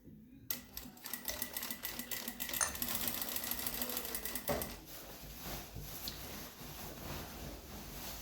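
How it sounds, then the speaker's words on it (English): A sewing machine stitches tan fabric pieces placed right sides together at a quarter-inch seam, running in a fast, steady mechanical whir that starts after a brief quiet moment and continues through most of the stretch before easing off. "I have some tan loaded on my machine here, so you guys can kind of see the stitching on here."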